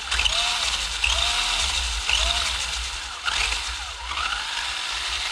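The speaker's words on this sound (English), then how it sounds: "engine works perfectly." A Porsche 959 Paris-Dakar engine runs loudly and close, its pitch rising and falling in repeated revs over a steady low rumble.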